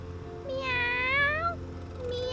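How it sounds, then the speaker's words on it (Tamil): A cat meows clearly and close by, one long drawn-out call that rises and then falls in pitch, heard alone against a low steady background hum. "மியாவ்"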